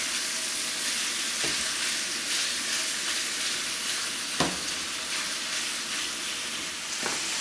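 Italian sausage frying in a pan for chili makes a steady, loud sizzle throughout, with a few soft scrapes and clicks as the meat is flipped and stirred; no voices.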